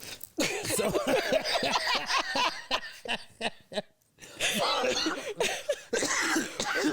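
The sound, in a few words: coughing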